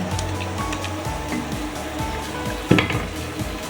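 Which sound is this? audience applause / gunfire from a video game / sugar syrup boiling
sugar syrup boiling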